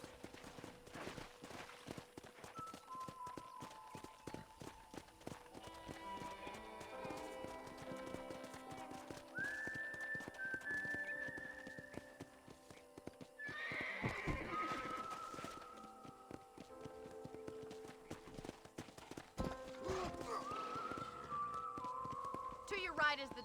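Horse hooves clip-clop steadily in Red Dead Redemption on a ranch, with occasional neighing and whinnying, while characters talk over the walking rhythm.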